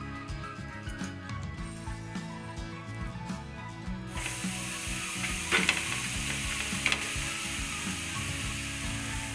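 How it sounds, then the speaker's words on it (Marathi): A thalipeeth made from soaked poha roasts on a hot pan with a loud, steady sizzle that swells into a broad hiss partway through, joined by a few clicks and scraping touches, heard close with no talk. "चला तर आता आपण थालीपीठ हे खरपूस असं भाजून घेऊया।"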